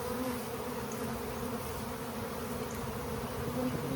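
Dense, steady buzzing of agitated honeybees swarming close by during a colony cutout, as the comb is moved into hive boxes; continuous and loud with no pauses.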